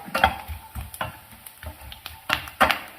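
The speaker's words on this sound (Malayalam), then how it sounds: "ആ വിധത്തിൽ ഇത് തീ കൂട്ടിയും കുറച്ചും ഒക്കെ ഇട്ട് വറുത്തെടുക്കാം" Dried coconut copra frying in oil on a stove with the heat raised and lowered, a soft close sizzle broken by irregular stirring scrapes and clicks over about three seconds, with no voices.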